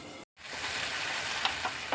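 Garlic and tomatoes frying in a pan for bun dosa: a loud, steady sizzle and crackle fills the whole stretch after a brief cut to silence near the start, with occasional sharper pops.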